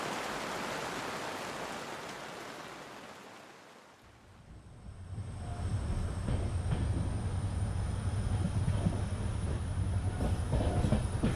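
Dhauli Express train rolling along the rails, a steady loud rumble with faint rhythmic clatter and a whining tone above it, following a softer rushing wash at the start.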